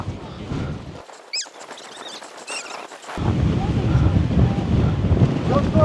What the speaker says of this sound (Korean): 바람 엄청 분다.